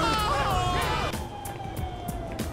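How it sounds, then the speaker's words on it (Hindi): A police siren in the GTA 5 video game wails with rising and falling sweeps, then settles into a steady tone, with game noise and voices underneath. "इधर पुलिस का सायरन, वो देखो पुलिस पीछे पड़ी है सबके"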